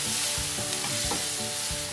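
Soy sauce and salt in a frying mixture stirred in a hot pan, a loud continuous sizzle with rhythmic scraping strokes of the spoon, close up and without voices.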